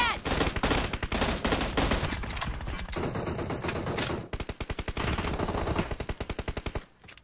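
Rapid automatic gunfire from PUBG gameplay, loud and sustained bursts of close shots with brief pauses, continuing almost throughout.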